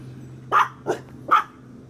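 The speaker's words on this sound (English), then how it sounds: "I've got to pause this story while these dogs bark." Several dogs indoors give three sharp, separate barks spaced about a beat apart, fairly near and alone over a faint steady hum.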